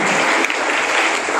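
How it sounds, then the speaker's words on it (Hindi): An audience gives a dense, steady burst of applause at a college event, close and loud for its brief length. "उनके लिए जोरदार तालियां हो।"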